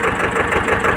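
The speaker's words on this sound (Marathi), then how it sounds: "ट्रॅक्टर." A farm tractor's engine runs nearby with a steady low throbbing chug and a regular pulsing beat, loud and close, with no voices.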